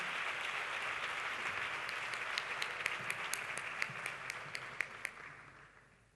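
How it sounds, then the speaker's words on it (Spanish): Steady applause from an audience at an education excellence awards gala, a dense wash of clapping that gradually fades, with a few sharper individual claps standing out near the end. "Un fuerte aplauso para Alfonso Lobato de la Sierra."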